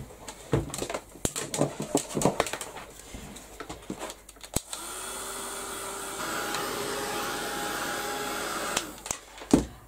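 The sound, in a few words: heat gun drying paint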